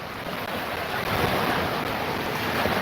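Mediterranean Sea waves wash onto the beach at Benidorm in a dense, continuous rush of surf, loud and close, with wind buffeting the microphone.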